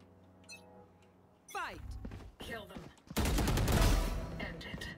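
Gunfire in Valorant, a quick burst of shots followed by a heavier dense barrage near the end, with a player's voice talking over it.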